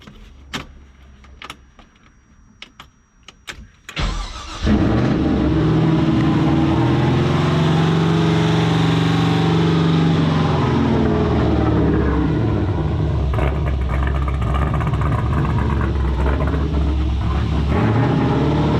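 An LS V8 swapped into a BMW E36 cranks after a few clicks and catches, then settles into a loud, steady, deep idle that runs on close by in an enclosed space.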